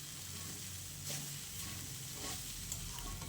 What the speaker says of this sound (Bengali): এইভাবে নাড়াচাড়া করতে করতে চিড়েটাকে কিন্তু আলুর সঙ্গে খুব ভালো করে মিশিয়ে নিয়ে